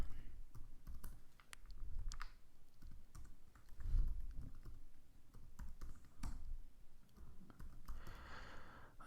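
Soft, sparse keystrokes on a computer keyboard while writing a Java dictionary program, quiet scattered taps with pauses and no talk.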